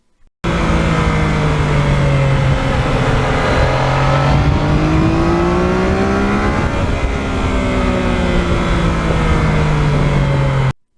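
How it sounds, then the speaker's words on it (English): A Yamaha MT-09 motorcycle engine revs loudly and steadily close by, its pitch sweeping down, climbing and settling again through a sustained, unbroken roar with no talking. "that's a great engine with a great power band"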